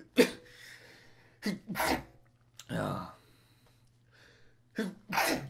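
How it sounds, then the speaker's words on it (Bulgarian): A person sneezes sharply and close at the start of a gaming commentary, followed by short breathy bursts and vocal sounds scattered through the rest of the moment. "Ще кихна."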